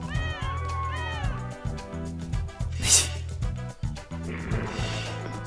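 Cats meowing in the video game Dog's Life, repeated drawn-out meows and short cries over low game music, with a sharp burst of noise in the middle.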